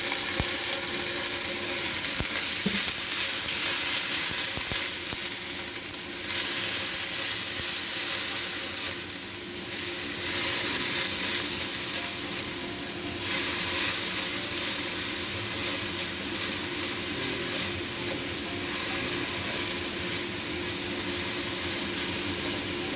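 Vegetables fry with garlic in a hot pan in a home kitchen, a dense, even sizzle and hiss holding steady throughout with slight swells, no talking.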